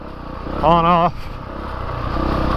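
A Honda CRF450RX dirt bike runs at low RPM with an abrupt on-off throttle, its engine a rough steady drone and a brief rising blip of revs, while someone talks briefly over it.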